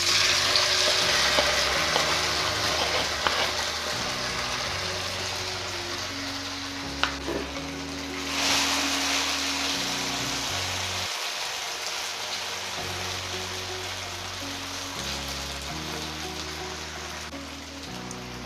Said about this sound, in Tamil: இப்போ நம்ம மேரினேட் பண்ணி வச்ச கபாப் இது மஷ்ரூம் போடலாம்.